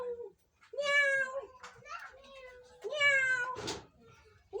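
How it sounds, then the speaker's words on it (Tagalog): A cat meows at home in several drawn-out, tonal calls, two long meows spaced apart with shorter sounds between, close and clear, while a voice and other chatter mingle in. "May pusang meow!"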